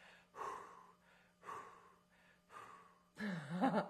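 A person imitates a horse blowing through its nose, puffing out several breathy snorts in a loose rhythm, ending with a louder, fluttering blow.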